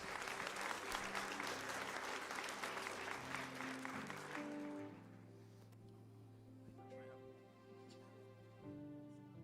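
A graduation audience at an 8th grade ceremony at The Academy Charter School in Hempstead applauds its English Language Arts teachers with dense, steady clapping that fills the first half, then gives way to a sustained musical tune.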